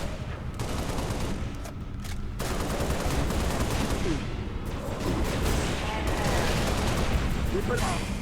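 Heavy gunfire from the video game Halo, sustained volleys of rapid automatic shots from several weapons overlapping in a loud, dense battle, with a few brief breaks in the firing.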